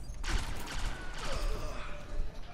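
Rocket fire and gunfire in the video game Destiny 2, with rapid, dense bursts and mechanical clatter sounding close and loud throughout.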